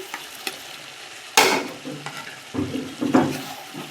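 Fried potatoes tumble into a pan of chicken curry with a sudden clatter and sizzle, followed by stirring scrapes and crackling oil.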